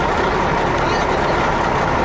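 A truck drives toward the listener across an airport apron during a civil aviation fair in Rio de Janeiro, its steady broadband engine rumble and hiss filling the whole short moment at close range, with no talk over it.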